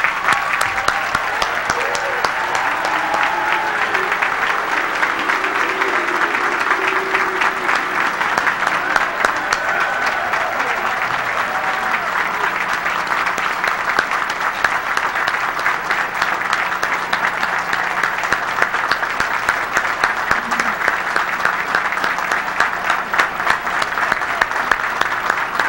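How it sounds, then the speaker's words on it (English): Sustained applause from a large audience at the 1998 United States Naval Academy graduation ceremony, a steady dense wash of clapping lasting the whole stretch with no voices over it. "Let's give Chuck Larson another round of applause."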